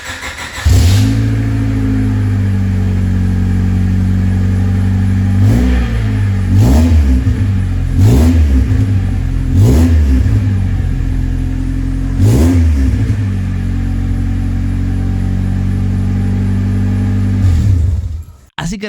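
A Honda Civic engine, bought damaged from an accident, idles steadily and is blipped about six times in sharp rev bursts, loud and close, before cutting off at the end.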